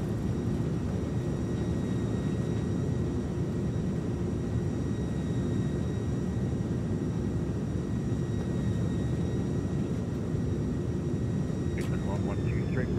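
In a flight simulator game, an Airbus A300F lands with thrust reversers deployed, giving a steady, loud, broadband jet roar that stays constant throughout, with thin engine whine tones above it.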